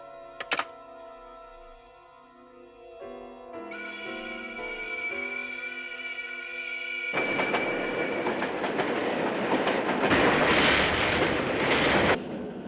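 Train sounds: a sharp clunk, tonal hums and a whine, then rising rumble and clatter of wheels on rails growing louder toward the end.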